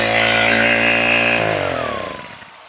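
A new fodder cutting machine, used to chop green fodder for horses, runs with a loud, steady motorized drone that then slows and winds down, fading out.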